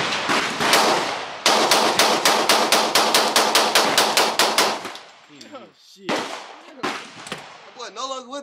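Rapid bursts of video-game gunfire ring out in a fast, loud, evenly spaced volley, followed by a few scattered single shots, with no talking.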